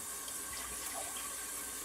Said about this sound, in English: I'm gonna add another cup of water.